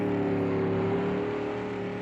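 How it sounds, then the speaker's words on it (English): Mercedes race car in a sim racing game, a steady, sustained engine drone with a strong tonal hum, held at constant pitch for the whole stretch with no talk over it. "It sounds nice. The blurb of the Mercedes."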